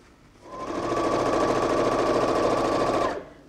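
Sewing machine stitching three quilt fabric pieces together for a shatter quilt block; one close, steady whirring run of about two and a half seconds that rises quickly and stops cleanly.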